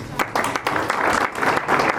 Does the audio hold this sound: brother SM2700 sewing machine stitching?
no